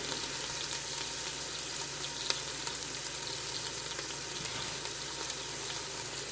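Ground meat pressed flat smash-burger style sizzles and fries steadily in a Ninja Foodi, a dense, even crackle that holds close and constant, with a couple of faint clicks partway through and no talking.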